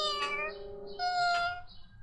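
Kittens carried in a girl's pockets give two thin, high meows in quick succession, close and clear against a quiet background.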